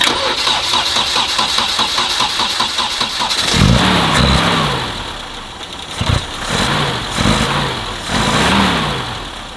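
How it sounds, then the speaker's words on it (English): BMW 2002 car engine cranks with a repeated starter whir, catches with a sudden loud burst, then runs and revs in several rising and falling swells close by. "I think we're gonna try and start it."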